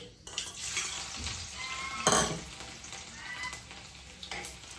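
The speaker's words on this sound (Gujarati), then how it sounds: "તેલ ગરમ થાય ને, જો લસણ" Garlic dropped into hot oil crackles and sizzles close by, with a burst of spattering and some pan and utensil clatter over a few seconds, no speech.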